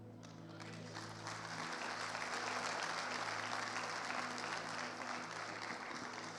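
A church congregation breaks into applause for the Lord, clapping building quickly into a dense, steady roar over a sustained low musical tone.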